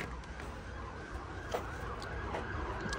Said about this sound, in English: Sorry about the sirens, we're on a bit of a main route for the emergency vehicles here.